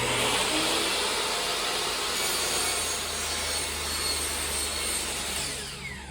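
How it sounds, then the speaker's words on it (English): Miter saw slicing crown molding laid flat against the fence, a loud, steady high-pitched whine of the blade biting wood that holds throughout and tapers slightly at the end. "this piece I'm just going to cut it flat against the fence of the miter saw"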